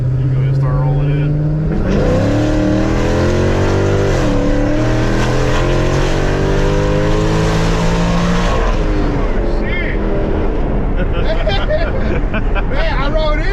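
Dodge Challenger with a 426 Hemi V8 accelerating hard on a dyno, a loud close roar climbing steadily in pitch for several seconds, then backing off into a rumbling idle, with voices mixed in.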